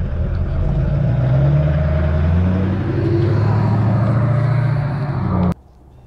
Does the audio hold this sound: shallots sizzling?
no